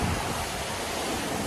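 A very big waterfall roars as a steady, dense broadband rush, loud and continuous throughout with no voices.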